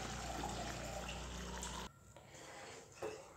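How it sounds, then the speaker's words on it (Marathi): Water mixed with ground masala paste is poured into a pan of spicy sev bhaji curry, a brief gushing trickle that stops abruptly, followed by faint low kitchen noise. "आता यामध्ये गरजेनुसार पाणी टाकायचं."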